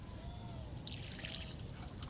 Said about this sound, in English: I'm going to pour it all around where I know the roots are.